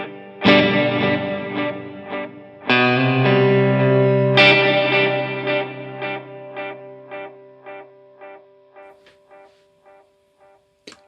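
A NUX Atlantic pedal runs its delay and reverb side by side on a guitar: loud distorted chords are struck three times, then a clear run of repeating echoes fades steadily over several seconds under a lingering wash.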